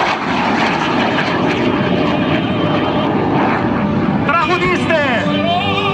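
A Frecce Tricolori aerobatic jet roars past at the Athens Flying Week air show at Tanagra, a loud continuous engine rush with a crowd and announcer talking over it and a rising tonal sweep near the end.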